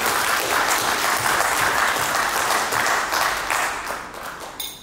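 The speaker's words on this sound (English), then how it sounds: "Can I just take a moment to give all of you a round of applause and a round of applause?" A crowd at an education group's launch event claps in a steady, full round of applause that holds evenly before thinning out and dying away toward the end.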